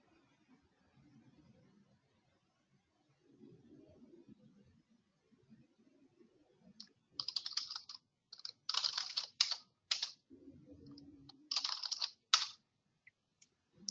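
Fingers type a password on a computer keyboard to log on, clusters of quick close clicks in short bursts after some faint low murmuring at the start.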